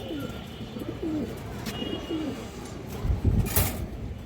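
Silver blood pigeons coo in a series of soft, low, rolling calls, repeated several times at close range, with faint background noise and a short rustle near the end.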